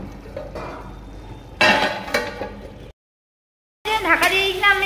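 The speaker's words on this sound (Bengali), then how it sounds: "এবার এটাকে আমি ঢাকা দিয়ে দেবো কিছুক্ষণের জন্য" A cooking pot of onion posto being covered with a lid, giving a few clattering metal knocks and scrapes amid a voice talking, then a brief silence and more speech.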